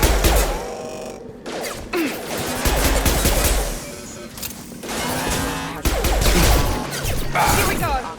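Gunfire during combat against mechs in Mass Effect 2 Legendary Edition, with dense bursts of rapid shots and impacts running continuously, loud and close, mixed with game effects and some voices.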